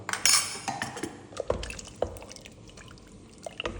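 Spoon knocking and scraping against a pot while chicken stew with coconut milk is stirred, with a few sharp clinks and soft wet drips, close and fairly quiet.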